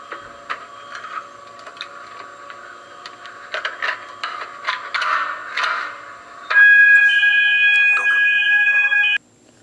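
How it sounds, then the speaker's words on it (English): A school fire alarm sounds after being pulled: a steady, loud electronic tone with a bright horn-like pitch starts suddenly partway through and holds for about three seconds before cutting off, preceded by clattering, busy room noise. "some student pulled the fire alarm on purpose"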